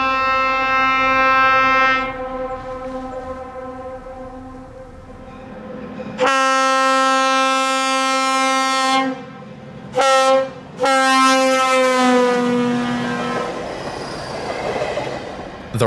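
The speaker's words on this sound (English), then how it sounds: "I was early enough to see RNN's other fall excursion, made up of two Bud RDCs, running round trip between Pottsville and Jim Thorpe as train JTPV." Two Budd RDC rail diesel cars on the Reading & Northern line between Pottsville and Jim Thorpe blast a loud, sustained multi-note horn in several long calls broken by short gaps, with engine rumble and wheel noise building as they pass.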